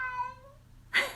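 A single short cat meow rings out near and fairly loud at the end, after a stretch of fading harmonic tones.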